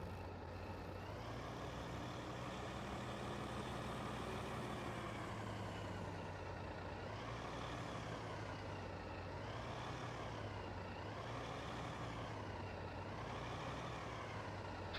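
Truck engine drone with a rising and falling pitch in the Farming Simulator 15 video game, a steady loud hum with periodic modulation and no talk.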